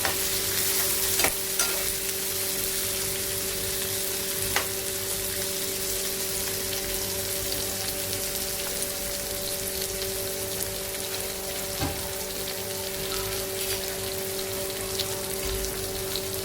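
Tomatoes with a little salt cook in a pan, a steady soft sizzle with occasional stirring clinks and a faint background hum, no voices.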